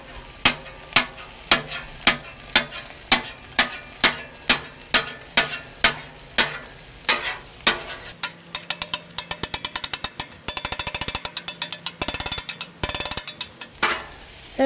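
Metal spatula strikes clatter as egg is fried and chopped on a Weber Slate griddle in a steady rhythm, speeding into rapid chopping, with a soft sizzle of frying underneath.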